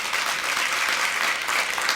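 Audience applause at the official launch of a social trading platform, a sustained, full crowd of hands clapping at steady volume with no break.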